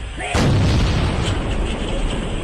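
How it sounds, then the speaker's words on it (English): A sudden, booming burst at about a third of a second, then a loud, noisy rumble that trails off, like an exaggerated explosive sneeze. "This is how a dad sneezes."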